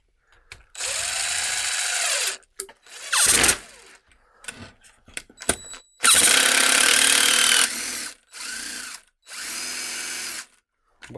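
An impact driver fitted with a DeWalt DWHJHLD bit holder drives a screw into wood near a knot, firing in about six separate loud bursts of whirring and hammering, each stopping abruptly, with quiet gaps and clicks between.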